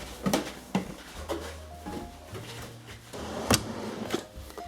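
A makeup drawer opening and closing at home, with several sharp wooden knocks and sliding bumps in quick succession, fairly close and unaccompanied by speech.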